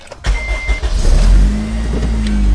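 A Q300 car engine cranks and catches after a sharp click, then settles into a loud, close idle with a steady low rumble and a faint electrical whine.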